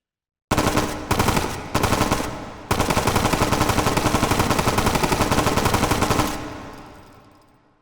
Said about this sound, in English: So let's pop that over to full auto.